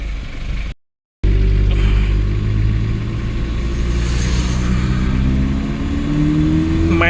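Used Nissan Big-M pickup truck engine on a test drive, a loud steady rumble that rises in pitch as it accelerates, briefly cut out near the start, with no talk.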